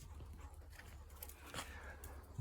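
Three dogs on a forest walk, quick rhythmic panting close by with a soft whimper, fairly quiet over footsteps and outdoor ambience.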